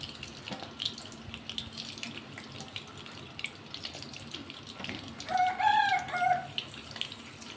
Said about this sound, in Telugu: కోళ్ళు కూడా ఇప్పుడే కూస్తున్నాయి చూడండి